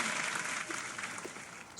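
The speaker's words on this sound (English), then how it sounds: "Big claps for that." A group of people applauding, a steady wash of clapping that continues for the whole moment without any talking.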